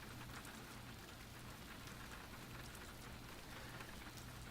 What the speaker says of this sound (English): his attention returned to the sound of the rain once more